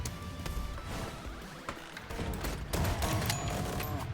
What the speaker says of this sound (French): Le fusil à pompe.